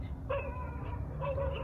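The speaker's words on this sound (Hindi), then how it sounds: "यार कुत्ते भी भौंक रहे हैं।" A dog whimpers and yips in short, fairly close bursts over a low rumbling background, heard at a house at night.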